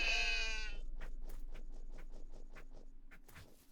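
A goat in the video game Fear and Hunger 2 lets out one loud, harmonic bleat at the start, followed by a quiet run of rhythmic clicking game sounds.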